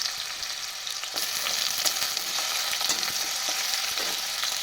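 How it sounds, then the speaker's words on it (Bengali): Washed potatoes frying in hot mustard oil, giving a dense, loud, continuous sizzle with crackling bursts, close up and with no talking. "এইবার ধুয়ে রাখা আলুগুলোকে ফ্রাই করে ভেজে নেবো"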